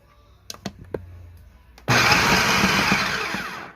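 A food processor pulses butter into dough. After a few soft clicks and knocks, the motor starts abruptly with a loud, close whirring roar that runs steadily to the end.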